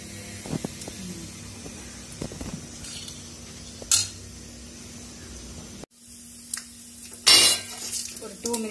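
Mustard seeds and chana dal fry in hot oil in a pan with a faint steady sizzle, broken by sharp clinks and scrapes of a spoon stirring against the metal.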